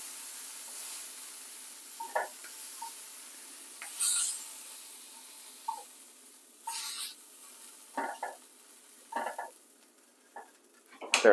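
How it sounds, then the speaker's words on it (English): Fried shrimp being lifted out of a pot on a stovetop while making shrimp tacos, giving a series of short scraping, clinking utensil-on-pot knocks with a faint sizzle underneath, close and fairly quiet. "I'm gonna take them out of the pot."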